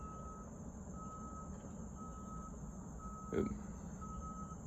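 Truck reversing beeps sound far off in a row of steady, evenly spaced tones over a low outdoor rumble, with a short voice exclamation partway through.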